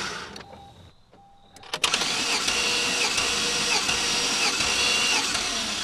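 A Chevy truck engine cranks on the starter during a compression test, with a steady, loud whirring churn that begins abruptly after a brief quiet stretch and holds to the end.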